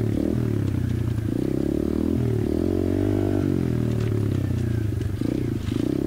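Apollo RFZ 125cc pit bike ridden down a rocky riverbed, its close, steady engine drone swelling and dipping in pitch with throttle, with light clatter and scraping underneath.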